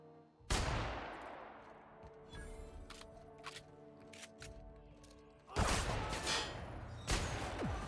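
Gunfire in the sci-fi role-playing shooter The Outer Worlds: a sharp opening shot with a long ringing tail, scattered smaller shots, then heavier blasts near the end, with a steady hum beneath.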